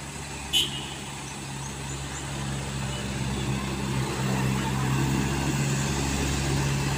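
A broken-down palm oil truck bound for Sinabang is towed up a steep incline, its engine droning steadily and growing louder under a low rumble, with one brief click near the start.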